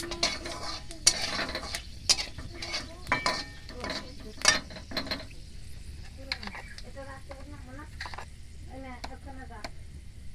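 Bay leaf and five-spice are stirred in a pan of oil over a low flame, with spatula scrapes and clanks against the metal over a light sizzle.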